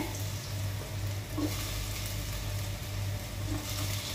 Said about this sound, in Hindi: बरे तळसून घेऊया